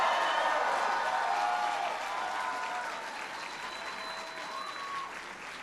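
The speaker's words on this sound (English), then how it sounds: "Give them a big round of applause." Audience applause for Judy Chu and Mike Honda at an Asian Pacific American Institute for Congressional Studies event, a broad, steady wash of many hands clapping that fades slightly toward the end.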